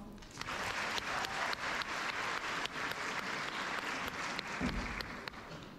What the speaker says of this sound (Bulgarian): И вашите аплодисменти за господин Жоро Иванов.